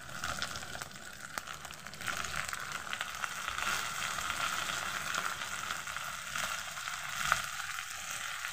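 Raw chicken pieces hit a pan of hot oil and dried red chilies for a chicken and potato curry, giving a steady, close, crackling sizzle that swells slightly partway through and continues without talk.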